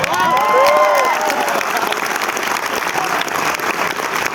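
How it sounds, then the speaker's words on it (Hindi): Students at a coaching motivational session in Kota break into loud applause, a dense, steady wash of clapping with a few whoops at the start, continuing without letup. "एक बार ताली हो जाए।"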